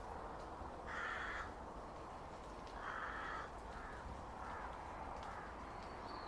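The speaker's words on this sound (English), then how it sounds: "I hope the microphone has caught that crow flying overhead" A crow caws as it flies overhead outdoors, with several harsh calls coming in separate bursts, two of them louder and a few fainter, over a steady background hiss.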